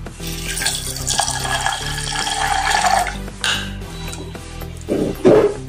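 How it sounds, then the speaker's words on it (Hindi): Water pours into a pot of dal makhani with rajma in a home kitchen, a splashing gush lasting about three seconds, followed by light clinks of a utensil against the pot and a brief second splash. "अभी इसमें हम पानी डालेंगे।"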